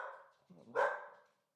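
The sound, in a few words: dog barking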